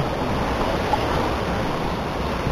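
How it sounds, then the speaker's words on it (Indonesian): Srambang waterfall in East Java roars as a steady, loud wash of falling water, continuous and even for a couple of seconds with no voices over it. "ini ya kita sudah sampai di air terjun Serambang"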